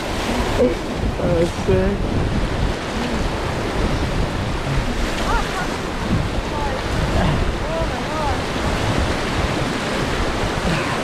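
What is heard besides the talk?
big wave crashing while white water rafting in the Amazon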